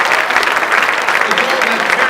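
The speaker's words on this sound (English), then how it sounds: "How about a round of applause for class of 2017?" Dense, steady audience applause at a student recognition program, honouring the class of 2017: continuous loud clapping from a crowd throughout.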